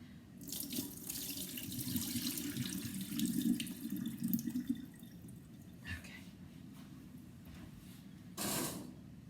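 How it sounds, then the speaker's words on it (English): Cooking water pours steadily into a sink for several seconds, a broad rushing splash that tapers off, followed by a few clanks and a brief final gush. "me just dump the water out here."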